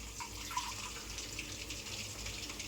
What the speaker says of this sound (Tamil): ஃபஸ்ட்டு கொஞ்சம் தண்ணி மட்டும் ஆட் பண்ணிக்கிறேன்